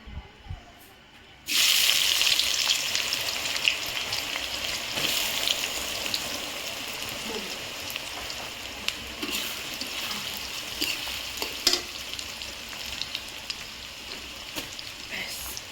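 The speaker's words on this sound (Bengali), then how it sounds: "এবার আমি কেটে রাখা পেঁয়াজ দিয়ে দেবো" Chopped onions hit hot oil already fragrant with cloves and cardamom for a mutton curry, setting off a sudden loud sizzle that settles into a steady frying hiss.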